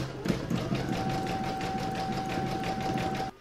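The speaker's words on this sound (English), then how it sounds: "It's round number 13 that stitches the last two raw edges here" An embroidery machine stitches the last raw edges on an in-the-hoop table topper, giving a steady, rapid mechanical chatter with a fixed whine that runs on without a break, close and moderately loud, and no voices.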